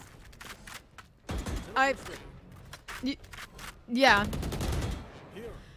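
Bursts of Vandal rifle fire from a Valorant match crackle in short volleys under excited commentary, with clicks and rapid shots breaking through between the talk.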